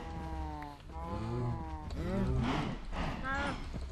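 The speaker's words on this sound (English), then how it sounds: "It's hungry business, slaughtering cows!" Cows in Minecraft let out several drawn-out moos one after another, close and fairly loud, overlapping in quick succession.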